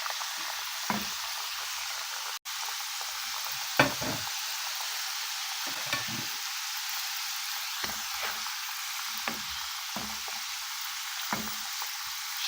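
Food frying in a pan gives a steady, close sizzle. Soft knocks and clicks from turning the pieces break through it now and then, with no voices.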